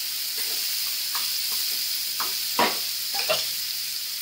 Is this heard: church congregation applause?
no